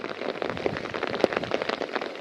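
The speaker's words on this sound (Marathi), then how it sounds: "आत्ता पण तुम्हाला आवाज येत असेल खूप जास्त पाऊस पडतो" Heavy rain pours steadily outdoors, a dense, continuous hiss of drops with a few louder splashes, close and loud with no talking.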